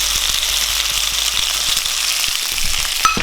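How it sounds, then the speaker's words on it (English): Butter and garlic sizzle in a hot pan with a steady, loud crackling hiss and small popping bubbles, up close, with no voices. "as you can see the new butter that we add start to bubble again"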